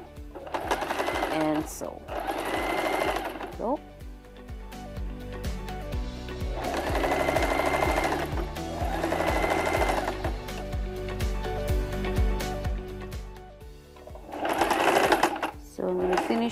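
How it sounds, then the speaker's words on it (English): Sewing machine running straight stitches on fabric casing, with short loud bursts of stitching separated by pauses, under a brief spoken remark and background music. "Now we're gonna run straight stitches."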